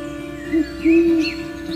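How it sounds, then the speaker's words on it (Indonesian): An owl hooting in daytime: two low, tonal hoots, the second longer and steadier, close and clear over faint background. "bunyi burung hantu di siang hari"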